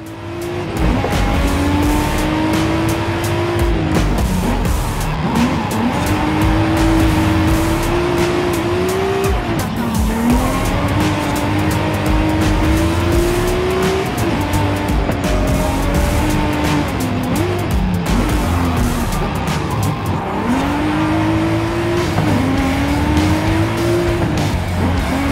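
Race car in the Forza Horizon 5 video game lapping a track, a loud engine revving up through gears with repeated shifts and tire squeal, continuous and close.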